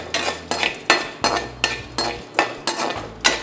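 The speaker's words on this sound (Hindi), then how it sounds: "कम आंच पे चलाते हुए और कंटिन्यू हिलाते हुए इसको हमने बनाना है" Flax seeds dry-roasting in a pan are stirred with a utensil, producing rhythmic scraping and clinking strokes about every half second, close and crisp, with a faint sizzle between strokes and no voices.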